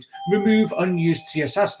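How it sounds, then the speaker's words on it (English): A home doorbell chimes at night under someone talking, its tone faint beneath the speech. "That's my doorbell."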